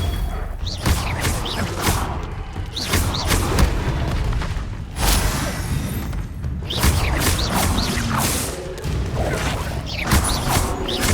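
Confringo explosive spells cast in the video game Hogwarts Legacy, heavy booming blasts and crashing impacts repeating across a busy, loud combat soundscape, with thumps and rumbles between them.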